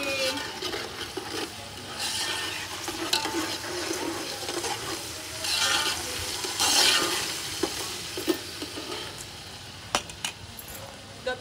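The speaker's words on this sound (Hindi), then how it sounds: "अभी हम प्याज को ब्राउन होने तक फ्राई कर लेंगे।" Onions frying in a pan of oil for Pakistani golden pulao, a steady close sizzle with stirring scrapes and a few sharp clinks of a utensil against the pan.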